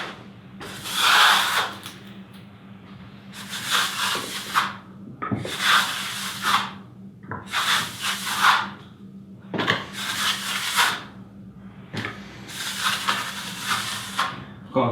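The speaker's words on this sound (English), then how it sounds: "I've got a very shallow angle on the trowel and I'm pushing very hard. Burnish the surface and close the hollows." Steel trowel held at a very shallow angle and pressed hard, burnishing a tadelakt plaster surface to close hollows: repeated rasping, scraping strokes in regular bursts of about a second each, close and fairly loud, with no talking.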